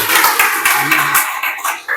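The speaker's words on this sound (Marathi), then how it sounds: "प्लीज त्यांच्यासाठी एक टाळ्या व्हायला पाहिजे" Audience clapping at a book launch ceremony, a loud close burst of many hands applauding that thins and fades toward the end.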